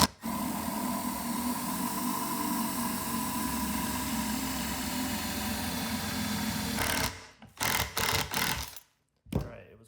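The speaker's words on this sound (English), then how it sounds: "we're gonna go in from this side and just drill it all the way through" A power drill bores through a dowel hole in a vintage wooden rocking horse, a steady whining motor hum held for several seconds, then a few short bursts before stopping, close up, with no talk.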